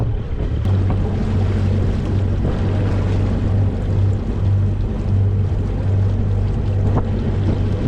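A boat engine runs at 2,000 RPM during a Rocna anchor test, giving a loud, steady low drone. Wind buffeting and water wash sound over it throughout, with no pauses.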